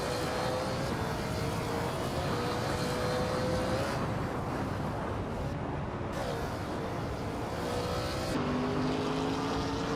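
A 2007 SEAT Leon TD race car drives at speed, its engine a steady loud drone with shifting pitch, shifts and other cars' noise blended into a continuous roar.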